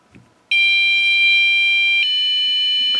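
An ISpy Defense home infrared beam alarm goes off suddenly, its loud, steady, high electronic tone sounding alone and shifting pitch once partway through.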